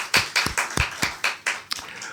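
Church congregation at a Sunday worship service clapping in unison, about eight sharp, evenly spaced claps in a steady rhythm, close and fairly loud.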